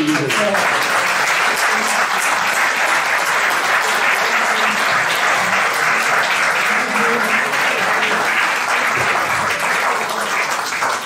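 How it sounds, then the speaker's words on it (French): A lecture audience in Chantilly breaks into loud, dense, sustained applause that fills the room evenly for over ten seconds without letting up. "Déjà, on peut applaudir."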